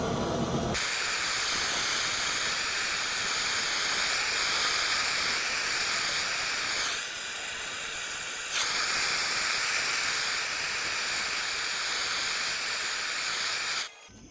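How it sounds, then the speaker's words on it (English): A blowtorch sears sous vide, vacuum-marinaded pork chops with a steady loud roaring hiss that shifts briefly midway, then cuts off abruptly with a click at the end. "we're going to use our torch to put a sear onto these pork chops"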